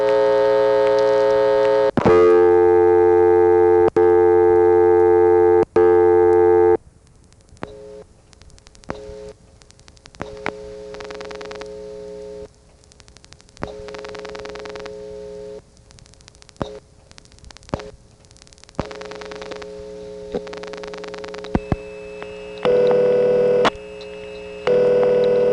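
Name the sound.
Murray Ring telephone ring tone, 1976 exchange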